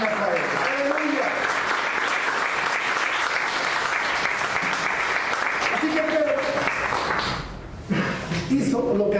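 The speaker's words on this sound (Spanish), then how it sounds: "Dale una ofrenda de palmas a Él." A church congregation breaks into loud, sustained applause that fills the room, with voices and shouts mixed in before a brief dip near the end and a quick return.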